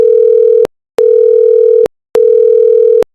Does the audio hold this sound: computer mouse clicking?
no